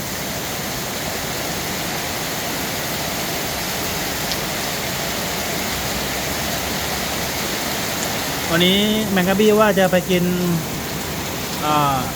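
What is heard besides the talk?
heavy rain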